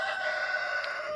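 A rooster crowing outdoors, one sustained tonal call heard at moderate distance over steady background hum, with no talking.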